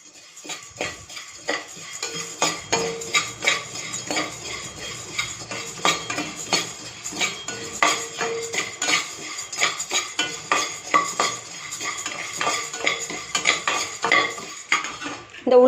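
Roasted gram being dry-roasted in a pan for murukku flour, with a metal spoon repeatedly scraping and clinking against the pan in an uneven rhythm, close and fairly loud, and no talking.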